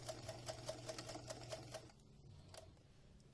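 Sewing machine running a line of stitching through a fabric flute-shaped mask, a steady rapid pulsing whir for about two seconds, then stopping, with a faint click afterward.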